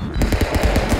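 Rapid automatic gunfire from the video game Stick Fight rattles in close, loud, evenly spaced bursts for about a second, with no talk over it.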